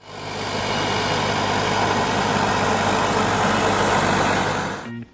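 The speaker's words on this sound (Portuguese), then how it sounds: "Trator subsolando a terra de lá para cá e de cá para lá." A tractor subsoiling very dry, dusty farmland, its engine a steady loud drone with low rumble throughout, cutting off abruptly near the end.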